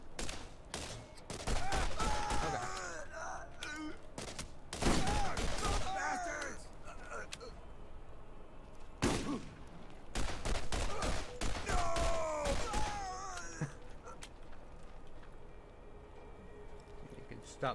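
Bursts of gunfire in the video game Borderlands come in rapid volleys, loud and repeated, with brief pauses between them and voices talking over the action.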